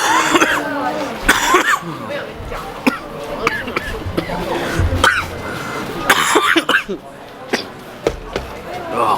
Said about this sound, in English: I think that was a mistake for my throat because I can't stop coughing.